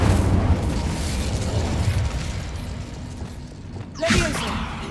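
The Incendio fire spell is cast in Hogwarts Legacy, a sudden whooshing flare of flame bursting out near the end after a stretch of low rumbling ambience.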